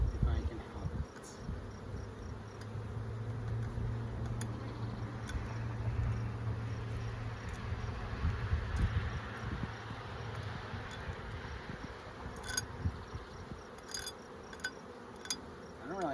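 Live honeybees hum in a continuous low drone around an opened brood box, close and steady, with occasional sharp clicks and knocks of hive handling.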